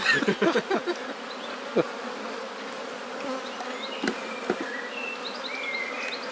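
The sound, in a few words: bees buzzing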